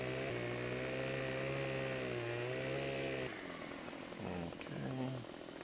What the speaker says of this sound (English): learning more about how to use the chainsaw and the loader